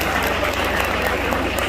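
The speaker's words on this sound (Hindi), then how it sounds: "तो जोरदार तालियां देना आपके लिए बजाय।" Dense, continuous applause from a crowd, loud and sustained with no pauses throughout.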